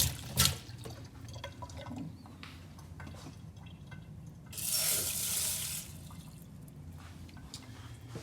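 Water runs from a kitchen tap into a pot of black rice in a brief, hissing rush near the middle, among clinks and dripping sounds.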